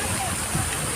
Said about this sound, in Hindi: देखिए नीचे पानी गिर रहा है